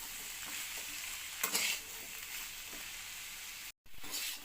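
Pumpkin greens fry with a steady, close hiss in a pan as they are stirred, with a few louder scraping strokes of the spatula and a brief cut to silence near the end; no voices.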